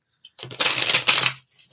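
A deck of tarot cards being shuffled up close, a brief soft riffle and flutter of cards lasting about a second, with no one talking.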